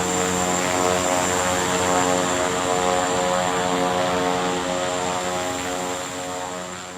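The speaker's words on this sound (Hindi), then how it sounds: "ये प्रोपेलर एयरक्राफ्ट है और काफ़ी कूल सा लग रहा है" A small propeller aircraft, a compact plane of the charter or air-taxi kind, drones steadily and loudly with a thick layered engine and propeller hum that eases off a little toward the end, with no voices over it.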